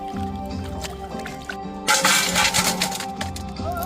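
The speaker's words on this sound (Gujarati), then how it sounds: "સૌપ્રથમ ધોઈ નાખશું આપણે આ લીલા શાકભાજી" Green vegetables being washed in water, with splashing and dripping sounds that grow busier midway, close up over a steady tonal background hum.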